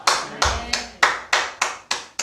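A church congregation claps in unison during a Sunday morning worship sermon, about eight sharp, evenly spaced claps in a steady rhythm, close and loud, with no talk.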